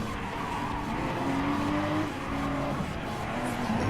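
Jaguar Formula E race car in a racing video game at Interlagos, its electric motor whining and rising in pitch under a steady engine roar with tire skidding, loud and continuous throughout.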